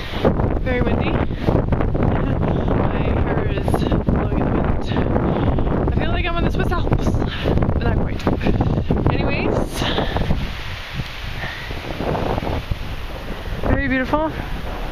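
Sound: wind blowing near waterfalls on a mountain

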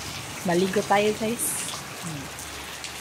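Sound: rain falling

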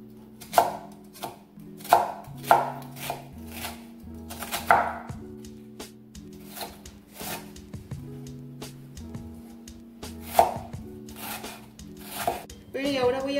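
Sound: chopping onion finely with a knife

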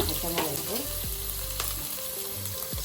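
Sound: frying ginger, garlic and green chili in oil

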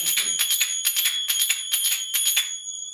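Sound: finger cymbals (zills) played up to speed

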